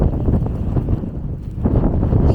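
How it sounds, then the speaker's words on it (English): Wind in a New York City snow blizzard, a steady broadband rush with gusty swells that strengthen toward the end, heard up close with no talking. "Snow falling, accompanied by the wind, as you can see."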